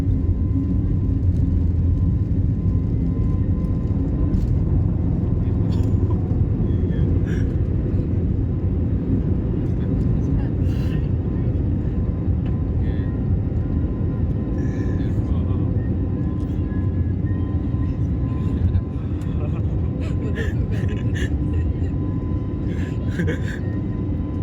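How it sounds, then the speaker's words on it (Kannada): Steady broadband roar and low hum of a passenger airliner cabin in flight on a first flight, continuous and loud throughout with faint clicks and occasional soft background sounds. "ಫಸ್ಟ್ ಟೈಮ್ ವಿಮಾನದಾಗ ಹಾರಾಕತ್ತೀವಿ ರೀ"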